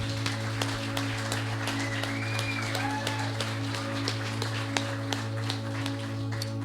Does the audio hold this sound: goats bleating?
no